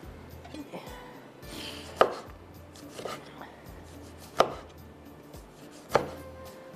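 A knife slices through a lemon on a cutting board, with sharp thuds of the blade striking the board about every one to two seconds, and soft rubbing between them, close and fairly quiet.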